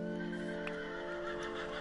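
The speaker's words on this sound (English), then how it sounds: "My horse just spawned out here." Horse neighing in Minecraft, one short whinny heard close and clearly over a constant steady hum, with no voices.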